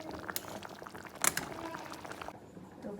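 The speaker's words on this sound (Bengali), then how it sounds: "ঢাকা দিয়ে কিছুক্ষণ ফুটিয়ে নেব।" Fish curry simmers gently under a lid in a pan, giving a faint, steady bubbling hiss with a few soft pops, quiet and close, with no talk.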